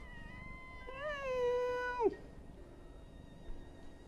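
A cat gives a single drawn-out meow lasting about a second, rising then dropping sharply at the end, fairly close over a quiet background with faint noise afterward.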